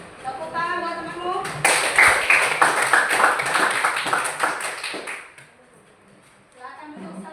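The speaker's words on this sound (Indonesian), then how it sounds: "tepuk tangan buat temanmu" Students in a classroom clap for a classmate, a brisk burst of many hands lasting several seconds, with a person speaking just before and again afterward.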